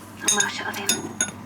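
Wine glasses clink together in a toast at a drinking table set with tuna sashimi, a few light, bright chinks among table clatter while people talk nearby.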